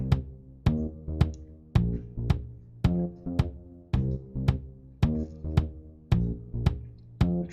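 A drum loop rounds out the ending of a song made in Soundtrap, its evenly spaced hits repeating in a steady, punchy rhythm with no voices over it.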